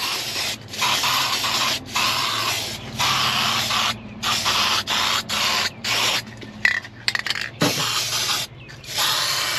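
Satin black top coat paint hisses from a spray can over a repaired car floor pan in short repeated bursts, each spray starting and stopping sharply with brief pauses between, close and fairly loud, with a few small clicks near the end.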